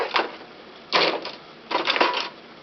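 A domestic knitting machine's carriage is pushed across for the first row, giving three short bursts of rattling, clacking mechanism noise with brief quiet gaps between them, close and fairly loud.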